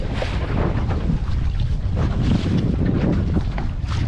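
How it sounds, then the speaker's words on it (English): Wind gusting over an open lugger sailboat under sail, a loud, steady broadband rush of wind buffeting the microphone with water noise beneath, continuous for the whole stretch. "Oh, there's a gust of wind."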